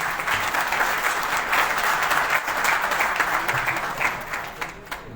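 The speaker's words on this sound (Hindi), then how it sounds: "आप सब लोगों से मैं आग्रह करूंगा कि मंत्री जी का स्वागत एक बार जोरदार तालियों से किया जाए।" Loud, sustained applause fills a summit hall at the Vibrant Bihar Global Summit 2022 as the audience welcomes the minister, a dense, steady wash of clapping that lasts about five seconds.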